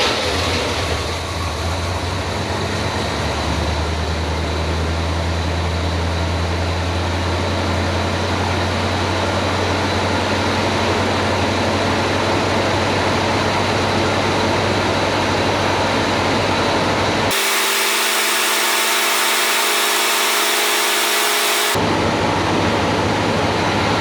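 A Cadillac 472 V8 runs at a steady idle with a loud, dense roar and rumble that continues without a break, with a brief change in tone near the end and no voices.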